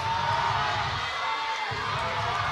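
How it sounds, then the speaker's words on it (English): A crowd at a powerlifting meet cheers and shouts in a steady, dense roar that fills the hall and carries on unbroken throughout. "Ooh, the crowd's going wild."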